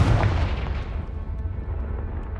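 A Confringo fire spell in Hogwarts Legacy bursts with a deep, loud explosive boom that rumbles and fades into a lingering low roar.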